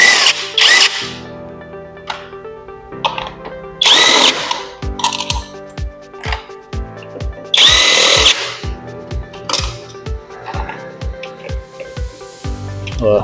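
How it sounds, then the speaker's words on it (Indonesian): An impact wrench works on automatic transmission bolts, firing several loud, close bursts of rapid hammering rattle separated by pauses, with a spinning whir between blows. "Kalau pengen cepat bisa menggunakan impact juga boleh."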